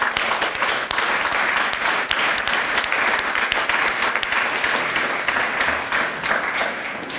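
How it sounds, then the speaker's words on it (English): An audience at a city business and innovation event applauds a team with dense, sustained clapping that holds steady for several seconds. The applause is loud and fills the room, with a brief spoken word at the start. "again, a big applause for this team."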